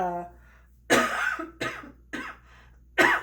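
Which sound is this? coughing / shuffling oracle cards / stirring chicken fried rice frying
coughing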